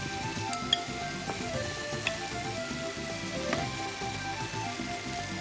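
Mutton pieces frying in a pan with ground black pepper and chopped green chilli, a steady soft sizzle with a few faint clinks, heard alone at moderate level without talk.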